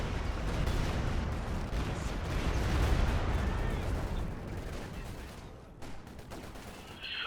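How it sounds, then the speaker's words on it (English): Light artillery in Company of Heroes 2 lands in a dense barrage of booming impacts and crackling blasts, loud and sustained before easing off near the end, with no talk. "light artillery coming down on that Vet 3 MG"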